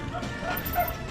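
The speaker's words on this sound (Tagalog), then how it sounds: "Aso." A small dog yips and barks a few times quickly, faint and somewhat distant over low background noise.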